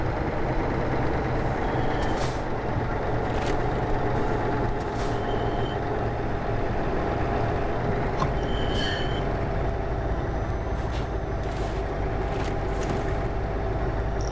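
A truck drives along in Euro Truck Simulator 2, its steady engine drone and road rumble continuous throughout, with a few faint clicks and hisses over it.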